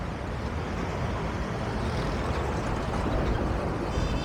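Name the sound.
fast road traffic passing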